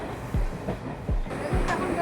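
Inside a moving train: a low rumble with regular heavy thumps of wheels over rail joints, roughly one every second, and faint voices.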